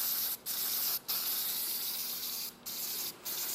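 Aerosol spray paint hisses onto a Chevelle SS wheel in long passes broken by short gaps, four pauses in all, close up with no talking.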